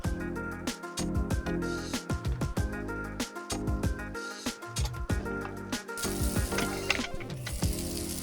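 A potato, carrot and cheese omelette fries in a pan with a steady, close sizzle, broken by irregular clatters and scrapes of a utensil working the pan, with a brighter hiss toward the end.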